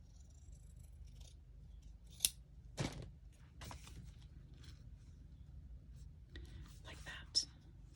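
Scissors trim a thin sliver off craft material in a quiet room, giving a few short, crisp snips, the sharpest near the start and end, with soft whispered talk and faint handling noises between cuts.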